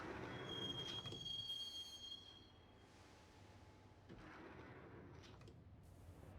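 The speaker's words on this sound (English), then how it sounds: "the train doors had already shut behind me, and I was in for the ride" A subway train ride in the video game Max Payne, with a steady rumbling rail roar and a high, thin wheel squeal that fades, then the rolling noise continues at a moderate, even level.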